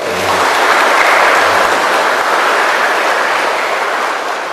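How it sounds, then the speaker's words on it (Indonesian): Audience applause at an academic exam ceremony and director's welcome at a maritime polytechnic in Makassar: a dense, steady wash of many hands clapping at once, loud and sustained for several seconds with no talk over it. "Tepuk tangan dulu dong."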